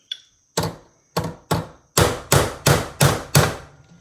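A hammer beats a rivet flat on the wooden handle of a Lee six-cavity bullet mold: a faint tap, then nine sharp, close metallic blows, the later ones quicker and heavier.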